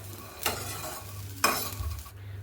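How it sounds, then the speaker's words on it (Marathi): Peanuts, coconut and soybeans roast in a spoonful of oil, a low sizzle broken by two distinct scraping stirs about a second apart. "असं हे मस्त असं आपण भाजून घ्यायचं"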